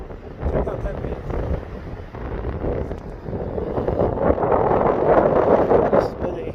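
Strong wind gusts across the microphone on a windy day in remote Wyoming, a steady roaring buffet that swells and rumbles for several seconds without pause.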